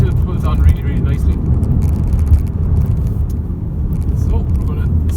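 A car engine pulls hard under acceleration in sixth gear, giving a deep, steady rumble with road noise that holds a fairly constant level from start to finish.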